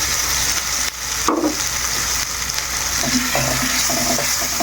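Prawns go into hot spice masala and fry with a loud, steady sizzle, broken by a brief clatter of stirring near the start and light scraping later; no one speaks.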